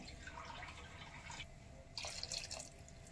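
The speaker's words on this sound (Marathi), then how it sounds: "1 गिलास पाणी घालत आहे मी." Faint splashing and trickling as a glass of water is poured into a hot pan of raw papaya curry, a quiet hiss with a brief louder gush near the end.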